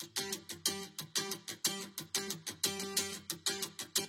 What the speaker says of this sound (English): We also have acoustic guitar layers.